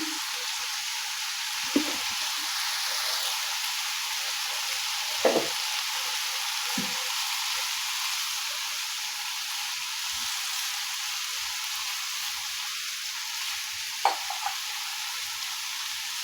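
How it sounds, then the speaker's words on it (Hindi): Fenugreek leaves (methi) fry in ghee with a constant hissing sizzle, close and steady, broken by occasional scraping clicks of a spoon stirring the pan. "इसको घी में अच्छी तरह से भूनेंगे"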